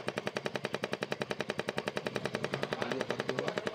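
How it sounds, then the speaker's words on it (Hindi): A car's abnormal noise from a damaged charcoal canister pipe, a fast steady rattling pulse of about eight beats per second, faint and continuous with no talk. "ये अगर आपका गाड़ी का चारकोल कैनिस्टर का जो पाइप अगर डैमेज या आपका चूहों ने काट दिया होगा तो आपका गाड़ी में देखिए ऐसा नॉइज होगा।"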